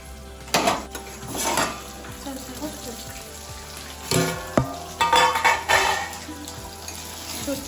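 Surmai fish fries in a pan with a steady sizzle, punctuated by several clanks and scrapes of utensils against the pan.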